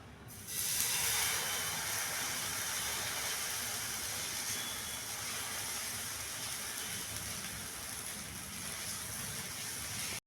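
Uttapam batter on a hot pan over a gas flame gives a steady broad sizzling hiss that starts abruptly and holds evenly throughout, close and fairly loud, with no talking.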